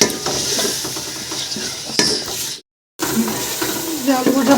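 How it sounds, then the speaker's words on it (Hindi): Potatoes and peas fry in a pot while being stirred, with a constant sizzle and repeated scraping of a utensil against the metal, briefly cut to silence partway before the frying resumes. "आलू मटर मैंने भून लिए"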